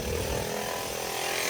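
Construction work next door produces a steady, loud, saw-like grinding drone that holds for the whole stretch without a break, with no speech over it.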